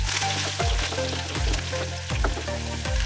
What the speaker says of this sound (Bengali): এবার আমি পেঁয়াজ কুচিগুলো দিয়ে দেব